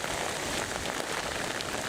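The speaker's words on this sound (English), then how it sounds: "It's foggy, it's rainy, it's cold." Steady rain patters on a surface, a dense, even hiss of drops with no other sounds.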